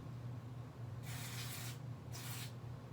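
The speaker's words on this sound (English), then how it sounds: "We're going to spray the wheels." DeoxIT contact cleaner sprayed from a pinpoint nozzle onto N scale model train wheels, two short close hissing bursts separated by a brief pause, over a faint steady hum.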